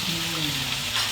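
Bitter gourd (ampalaya) frying in a pan with no other ingredients, a continuous soft sizzle with light stirring scrapes, fairly close and moderately quiet.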